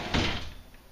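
A garage door with squeaky hinges and a Sears Craftsman belt drive opener takes a single dull knock, giving one short thump that rings briefly and then fades away, close by and alone.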